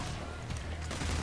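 Rapid pistol fire spammed in Payday: The Heist, a dense, continuous rattle of game gunshots with heavy low-end thump, loud and close throughout.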